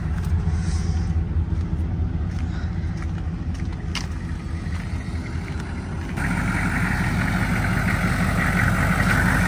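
A pickup truck engine idles nearby, a steady loud low rumble that grows slightly fuller and louder partway through, with no talk over it.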